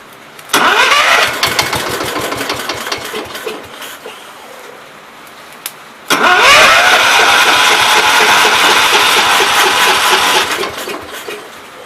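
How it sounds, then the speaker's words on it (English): 1969 Gravely 432 tractor engine cranking with rapid rhythmic chugs, pausing, then cranking again and catching into a loud running roar before fading, no talking. "Let's try turning it back over, see if we can get it to unflood and start."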